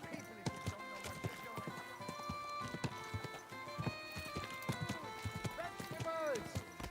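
Horse hooves clip-clop at a steady trot in Kingdom Come: Deliverance II, close and rhythmic throughout, mixed with a brief whinny and other game sounds near the end.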